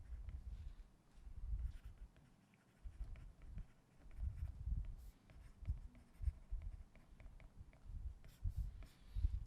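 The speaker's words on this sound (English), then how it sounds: "Let me write that down." A pen or chalk writes steadily during a lecture on fluid instability, making faint, soft scratching and tapping strokes in irregular bursts against a quiet room.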